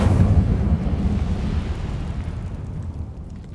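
The Incendio fire spell cast in the video game Hogwarts Legacy, a loud, deep, rumbling burst of flame that flares at once, then slowly dies away into a low roar, with no talking.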